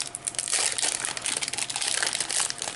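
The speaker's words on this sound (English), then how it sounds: "let's crack a few more packs here" Foil trading card booster pack being ripped open, a close, continuous crinkling and crackling of the foil wrapper lasting a few seconds.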